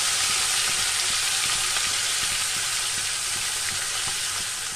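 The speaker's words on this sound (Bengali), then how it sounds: "তো মাছগুলো আমি কড়াইয়ে দিয়ে দিলাম।" Fish frying lightly in oil in a kadai: a loud, continuous, even sizzle with a steady hiss and faint crackles throughout.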